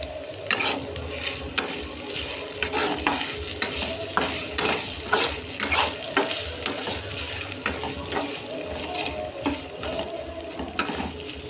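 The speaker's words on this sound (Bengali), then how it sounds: "ঘেটকুলটা খুব ভালো করে কষে নেব।" Giant taro being stirred and fried in a pan, a steady close sizzle broken by repeated scraping strokes of a spoon at an irregular rhythm throughout, with no talk.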